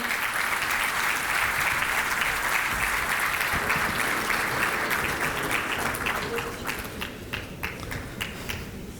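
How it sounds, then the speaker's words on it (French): Applause from an awards-ceremony audience for the entrepreneur of the year, a dense crowd clapping loudly and continuously before thinning into sparser individual claps near the end. "Sous vos applaudissements, s'il vous plaît."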